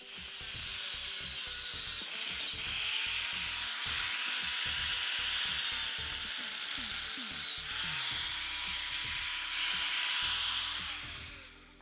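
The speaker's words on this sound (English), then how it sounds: "I'm going to relieve that with my angle grinder, and then it should be okay." An angle grinder cuts into an aluminum window frame, a loud high-pitched whirring grind that holds steady for most of the clip with brief shifts in pitch as the blade bites.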